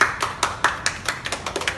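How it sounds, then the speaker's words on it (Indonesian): Hands clap in a classroom in a quick run of sharp, fairly close claps, several people together, with no talking over them. "Bagus, kasih tepuk tangan."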